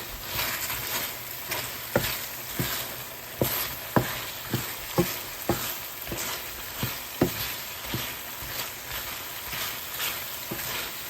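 Honey glaze chicken sizzles loudly in a hot pan while a spoon stirs it. A steady crackling fry runs throughout, with regular clacks and scrapes every half second or so.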